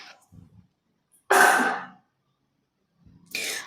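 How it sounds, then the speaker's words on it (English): A woman coughs near a handheld microphone: one loud, harsh burst, then a second shorter cough after a pause, with faint breathing between. "I start coughing a lot as soon as I speak."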